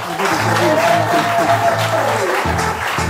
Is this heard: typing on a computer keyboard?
no